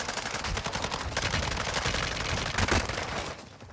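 Sustained automatic fire in a Call of Duty raid, dense rapid shots running almost unbroken for several seconds before cutting off, loud and close, with no talking.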